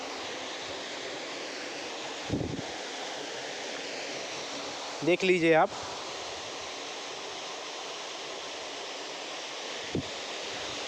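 Water gushes from a 5 hp solar pump pipe in a steady, forceful, high-pressure roar throughout, while someone speaks briefly in the middle and a couple of faint knocks sound.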